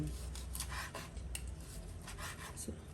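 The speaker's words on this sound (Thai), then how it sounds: "หมูย่างของเราสุกแล้วนะคะ เราก็จะทำการหั่น" A knife scrapes and taps against a cutting board in quick, irregular strokes, close up, as grilled pork is thinly sliced.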